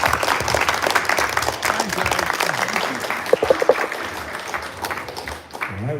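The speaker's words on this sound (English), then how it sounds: "one more time, can a round of applause." A room full of people claps steadily for several seconds, a dense patter of applause that thins out toward the end.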